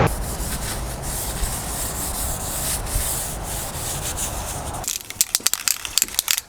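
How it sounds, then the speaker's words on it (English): A cloth rubs steadily over a car's sunroof wind deflector from a Mk2 Volkswagen Golf, wiping it down with white spirit; a close, continuous scrubbing gives way to a few sharp clicks and handling knocks at the end. "So just give this a full wipe down with some white spirit, get any surface rust,"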